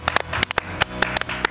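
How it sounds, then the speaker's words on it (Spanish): An audience applauding a singer on a TV show, with close, sharp, uneven claps in a short burst. "Un aplauso, ¿no?"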